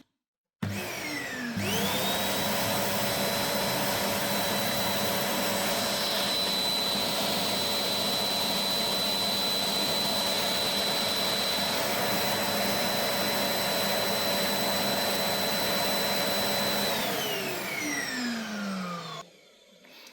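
A 1700 W Bosch BWD41720 vacuum cleaner switches on, spins up to a loud steady roar with a high whine, runs continuously, then winds down and shuts off.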